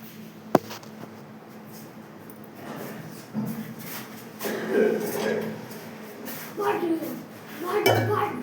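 Dishes and utensils knock and clink faintly while being gathered and carried to a tap in a home, scattered light clatters beneath people talking.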